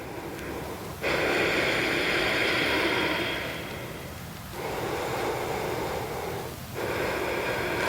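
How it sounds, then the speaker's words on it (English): Slow, deep diaphragm breathing is heard up close and loud, with long airy inhales and exhales separated by brief pauses, repeated in an even rhythm. "I'm just breathing through my diaphragm"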